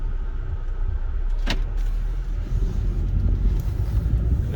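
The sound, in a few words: 2011 Volvo C30 R manual car pulling away in first gear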